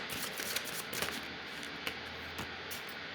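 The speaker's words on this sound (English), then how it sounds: "Let's pull some love angel cards." A deck of love angel oracle cards is shuffled close by. It makes soft, quick riffling and flicking sounds with a few sharper taps in a quiet room.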